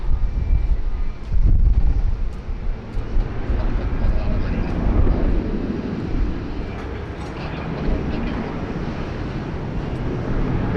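A Jetstar Airbus A320 airliner bound for Melbourne at Sydney Airport, a broad low engine rumble that swells early then settles into a steady roar, with some wind buffeting.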